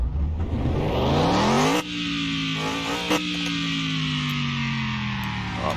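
A car with red brake calipers starts up with a loud rising rev, then settles into a steady, close idle hum with a small blip partway through.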